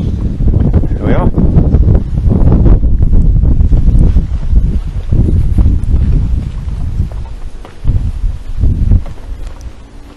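Cold wind blows straight onto a microphone outdoors on a walk, producing loud, low, rumbling buffets that surge and ease in continuous gusts for the whole stretch.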